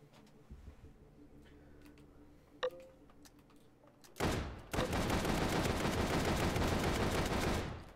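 Gunfire in the virtual reality shooter H3VR, Take & Hold mode: quiet clicks and handling noises, a single sharp crack, then a sustained, loud roar of continuous fire lasting several seconds.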